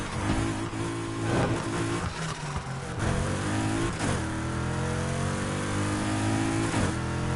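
A car's engine revs up and down several times, loud and close, with rising and falling pitch sweeps between steady idling stretches.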